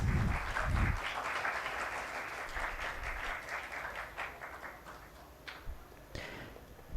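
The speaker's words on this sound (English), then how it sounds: "Can we have a round of applause" Applause from a crowd at a live school sports event in Delhi, a steady clapping patter that is loudest at the start and slowly thins, with scattered louder claps near the end.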